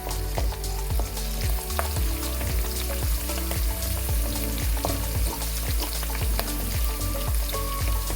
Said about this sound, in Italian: facciamo rosolare per bene